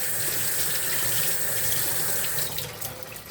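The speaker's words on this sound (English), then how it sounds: "I'm just going to wash this spatula off" Water runs steadily from a kitchen sink tap while a spatula is rinsed under it, a continuous close gushing wash with no talking.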